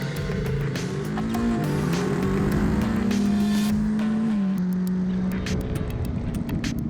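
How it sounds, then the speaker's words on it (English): A KTM 250 Adventure motorcycle's small engine revs up and holds a steady, buzzing drone, pitch rising and falling slightly, loud and close throughout with no talking. "On the move, the 250 Adventure has an eager to rev engine."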